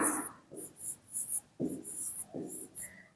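Someone writes on a board while working through a reasoning problem, making a series of short, scratchy strokes in irregular bursts separated by brief pauses. The strokes are fairly quiet and close, with no talking.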